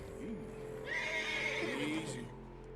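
A horse in the Western setting of Red Dead Redemption 2 whinnies once with a loud, wavering neigh over a low background hum, accompanied by faint hoof clops.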